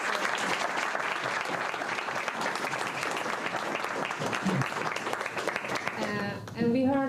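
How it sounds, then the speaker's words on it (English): Sustained audience applause at a Science Park event, a dense, steady clapping that fills the room for several seconds before fading, with a voice starting to speak near the end. "A big hand of applause for this."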